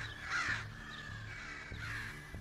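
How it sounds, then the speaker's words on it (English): Crows caw as they scold a person wearing a mask, two distant harsh calls spaced about a second and a half apart, faint over quiet outdoor background. "these young birds as they see their parents scold a mask"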